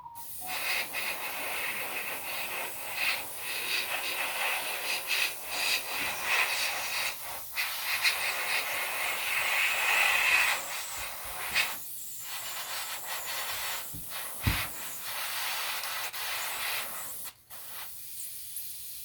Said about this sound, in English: This clear orange is definitely a difficult one to keep the airbrush working.